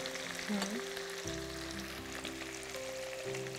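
Tomatoes and yogurt frying in a pan for a chicken gravy give off a steady, close sizzle and crackle over a low kitchen hum, unbroken for a few seconds.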